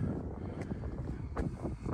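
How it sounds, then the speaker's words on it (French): Wind gusting against the microphone outdoors beside a 1969 Volkswagen Combi T2a Westfalia camper, a steady low rumble with soft buffeting swells, close and fairly loud throughout. "Ah, le vent qui se lève, évidemment."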